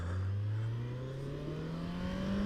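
A 2017 Kawasaki Z900 motorcycle pulling away, its engine note climbing steadily in pitch as it accelerates, loud and close throughout.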